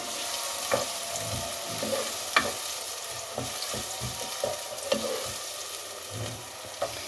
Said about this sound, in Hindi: प्याज को इसमें फ्राई कर लें।